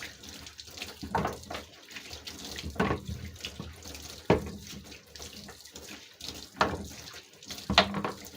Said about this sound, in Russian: Просто под проточной водой промываем.